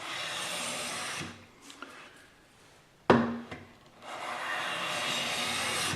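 A hand plane shaving wood: two bursts of long, steady rasping shavings, near and loud, separated by a quieter pause with a few light knocks and one sharp clack.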